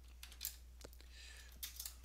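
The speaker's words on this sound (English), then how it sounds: "I'm typing ls right now" Typing on a computer keyboard at a Windows 10 command prompt, heard as a few quiet, separate key clicks in short bursts over a low steady hum, with no talking.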